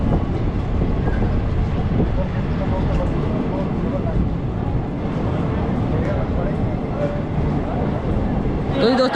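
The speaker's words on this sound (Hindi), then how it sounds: "तो ये दोस्तों ट्रेन अपनी पहुंच चुकी है ग्वालियर" Himsagar Express pulling into Gwalior station, a steady loud rumble of rolling rail cars filling the whole stretch, with a brief sharper rattle near the end.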